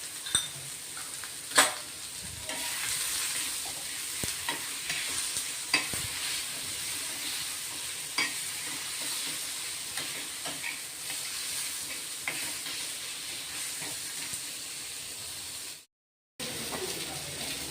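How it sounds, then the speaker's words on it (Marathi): Cumin seeds sizzle steadily in hot oil in a wok for a spicy Maharashtrian brinjal curry, with occasional clinks of a spoon stirring; the frying stays even throughout and stops abruptly near the end. "तेल गरम झालंय, थोडेसे जिरे टाकून घेतलेत आपण"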